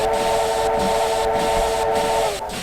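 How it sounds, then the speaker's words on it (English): A loud, sustained whistle from a USATC S160 steam locomotive in Train Simulator 2016 blows with a hissing, chord-like tone, then cuts off near the end over a rumbling background. "Let's blow the whistle."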